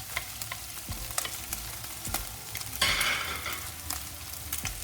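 Onions and garlic fry with bacon in a pan, giving a dense continuous sizzle with occasional stirring scrapes and knocks, close up and moderately loud, with a brief louder hiss of spitting fat partway through.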